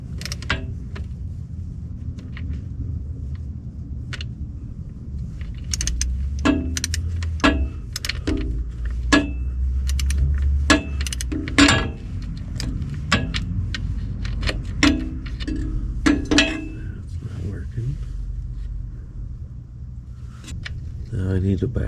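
A torque wrench tightens the band adjustment screw on a TCI C6 automatic transmission to 120 inch-pounds, giving a run of sharp metallic clicks and creaks in uneven bursts over a low background hum, close by.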